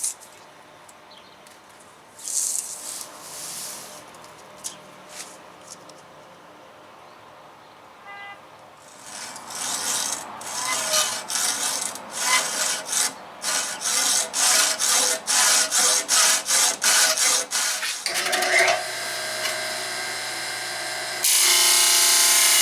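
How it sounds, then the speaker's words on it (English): Woodworking on a teardrop trailer build: a piece is hacked off and holes are pre-drilled to mount a ProFlex fitting. Quiet rubbing gives way to a loud run of rhythmic sawing strokes, then a steady power-tool whir near the end. "So let's hack off a piece, pre-drill some holes, put on our ProFlex"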